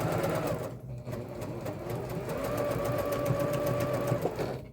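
A sewing machine stitches a pocket onto a messenger bag, running in a steady, fast, continuous whir close by with a brief pause near the start, and no talking over it.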